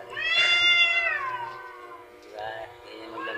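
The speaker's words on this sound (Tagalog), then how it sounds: "Ganyan maglambingin ng pusa guys." A cat on a roof lets out a long drawn-out meow, followed by a couple of softer, shorter meows, close by and fairly quiet.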